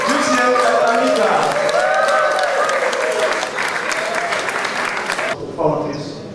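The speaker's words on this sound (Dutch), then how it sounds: "Graag een applaus voor Lucien en Anita." Audience applause for Lucien and Anita at the opening of a Pride art and culture programme, loud and sustained clapping with cheering voices, cutting off abruptly near the end.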